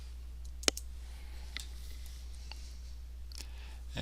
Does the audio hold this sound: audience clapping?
no